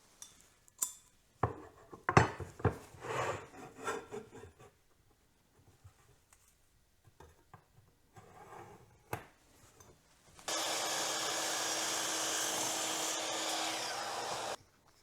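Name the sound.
cutting wooden pieces to the same length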